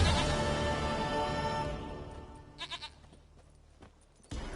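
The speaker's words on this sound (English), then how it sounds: "Goat of mine, dearest, sweetest goat." A goat bleats in a fantasy role-playing game, one drawn-out wavering cry that fades into quieter ambient sounds and a couple of short sharp noises near the end.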